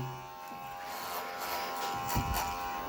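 Aprilla 5050 electric hair clipper running steadily close by, a continuous motor buzz with slight shifts in pitch as it trims hair, no talking.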